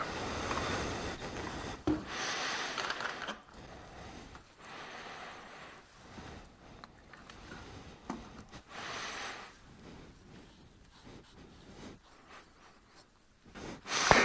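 Rag wiping and rubbing across a Honda CBR954RR motorcycle engine surface to degrease it before gasket fitting, close-up with repeated scrubbing strokes and soft rasping, no talk.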